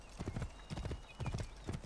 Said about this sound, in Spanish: Volvemos con nuestro caballo